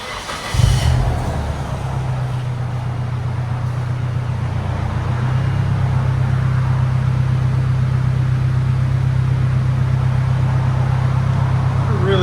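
A 1994 Nissan 240SX with a 2.4L engine and an HKS Sport cat-back exhaust starts up, then settles into a steady, deep idle burble that stays close and even for about eleven seconds.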